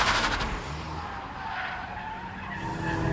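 A turbocharged Seat Leon with 210 horsepower races around the Anglesey circuit, its engine droning steadily close by while tyres scrub and squeal through the corners, with no talk over it.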